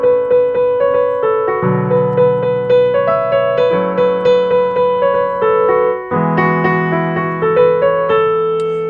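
A piano plays the melody from a song as a series of clear, evenly paced notes over sustained low chords, loud and close with no talking.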